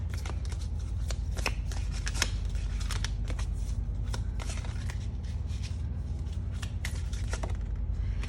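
Close, continuous riffling of tarot cards being shuffled, with sharp flicks over a constant low background hum and no voices.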